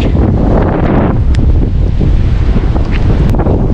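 Strong ocean waves breaking along a rocky coast in Ilocos, heard as a loud, continuous roar of surf heavily buffeted by wind gusting across the microphone, with no voices.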